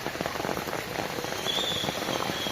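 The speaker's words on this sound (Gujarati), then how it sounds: "વરસાદ આવો છે પાણી જ ભરાઈ ગયેલા છે" Heavy monsoon rain pours steadily onto flooded streets in Surat, a dense, continuous hiss of drops on water and surfaces, loud and unbroken, with no voices.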